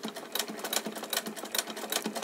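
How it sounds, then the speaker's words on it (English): A Singer 99K hand crank sewing machine in very good condition runs in a quick, even stitching rhythm, a close and fairly soft mechanical clatter with no talk. "hand crank sewing machine."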